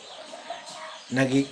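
A hen gives a short, loud, strained crowing call near the end, following a stretch of quiet background murmur.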